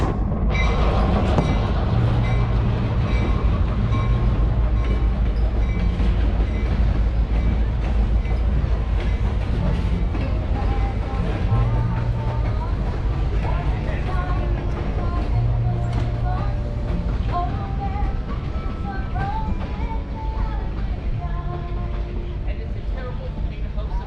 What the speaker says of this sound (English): that was kind of cool to see the train go by.